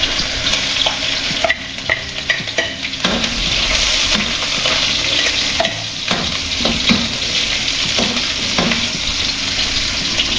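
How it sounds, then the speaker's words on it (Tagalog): Garlic, onion and ginger sauté in a hot pan before crabs go in, a loud continuous sizzle with stirring scrapes and clatters throughout. "Gisa na natin yung ating bawang sibuyas tsaka luya."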